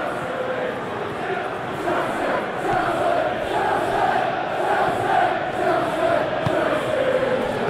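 Stadium crowd noise from the football video game PES 2021, Chelsea against Manchester City, a steady roar of cheering and chanting that swells slightly midway and holds continuously, broad and distant like a packed arena.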